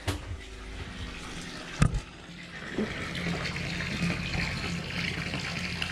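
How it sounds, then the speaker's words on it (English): A bilge pump aboard a sailboat that is taking on water runs steadily, pushing water out with a continuous gurgling wash, punctuated by a sharp knock near the two-second mark. "She'll pump out that water relatively quickly, eh?"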